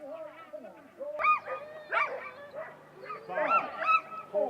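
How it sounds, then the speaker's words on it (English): Excited sled dogs before a dryland bikejor race in Thetford Forest bark and yelp in overlapping bursts, loud and close, with high whining cries mixed in throughout. "The dogs are so excited before the race. Their barks can be ear-piercing."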